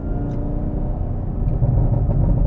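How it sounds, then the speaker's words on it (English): A 2023 Chevy Camaro ZL1 1LE engine rumbles loudly and close, with a deep, throbbing note that swells toward the end, with no one speaking. "You can hear the over revs, pops and bangs, and this thing is badass."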